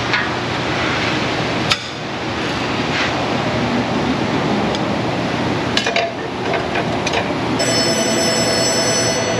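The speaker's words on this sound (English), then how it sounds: "The phone's ringing." A telephone rings near the end, amid the steady background noise of an auto repair shop, with occasional metallic clanks and knocks earlier.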